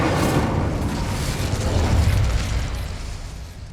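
The Incendio fire spell cast in Hogwarts Legacy, a sustained roaring, whooshing burst of flame that stays loud and broad for a few seconds with no talk.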